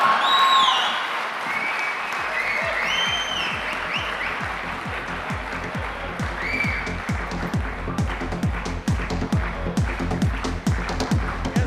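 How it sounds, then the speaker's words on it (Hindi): Sustained crowd applause at the NAR-INDIA annual real estate convention in a hall, loud and continuous, with a rhythmic thumping beat and music tones layered over it. "दोस्तों तालियां बरकरार रखिए"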